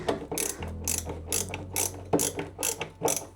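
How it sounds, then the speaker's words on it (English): A screwdriver ratchets a screw down into a TT120 model railway layout, giving a close run of about eight quick, crisp clicking bursts in an uneven rhythm. "screw that down"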